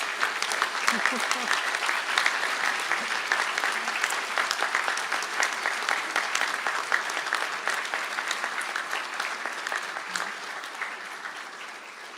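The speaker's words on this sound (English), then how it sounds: "So rise please and give a clap for all your families and friends" At a university conferring ceremony, standing graduates clap for their families and friends, a sustained, moderately loud round of applause from a large hall that tapers slightly toward the end.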